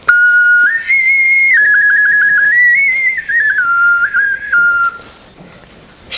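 An ocarina plays a smooth, pure-toned melody alone, with sustained notes gliding up and down before it fades to near silence.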